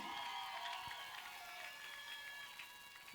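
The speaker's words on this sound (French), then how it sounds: "donne-moi une acclamation forte là-bas." A church congregation at an evangelism campaign service in Limete applauds and cheers, a faint, distant, continuous clatter of hands with scattered shouts running for about three seconds.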